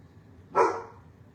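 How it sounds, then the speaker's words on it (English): A single short, fairly loud dog bark rising sharply from a quiet indoor background and fading quickly. "There is no way to fully avoid it with the dogs barking"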